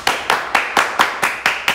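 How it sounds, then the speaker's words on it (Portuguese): Loud, close hand claps in a slow, even rhythm, eight sharp slaps about a quarter second apart, with no talking. "Bate palmas."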